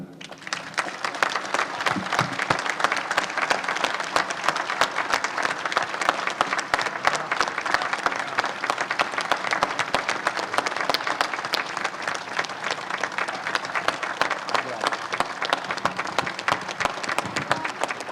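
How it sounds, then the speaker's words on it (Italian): Sustained audience applause following a choir performance at a choral festival in Castelfranco, dense and steady clapping that continues for the whole stretch without letting up, with faint crowd murmur underneath. "questo applauso che non vuole finire"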